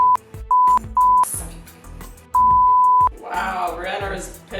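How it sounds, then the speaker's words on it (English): A building fire alarm sounds in loud, repeated electronic beeps, with short bursts followed by one long sustained tone, while a person talks underneath and background noise rises toward the end. "the alarm went off while we were sleeping"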